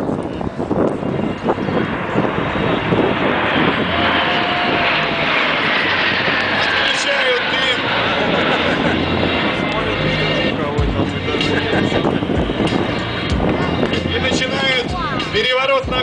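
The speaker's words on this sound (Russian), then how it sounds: "Шестерка L-39 балтийских пчел." Six L-39 jets of the Baltic Bees aerobatic team fly a display at the MAKS 2015 airshow, producing a loud, continuous jet roar with wind buffeting that swells and shifts as the formation passes overhead.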